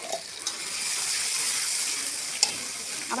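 Spiced rice with oil sizzles steadily in a wok as it is stirred, a continuous close hiss broken by a few scraping clinks of the spoon.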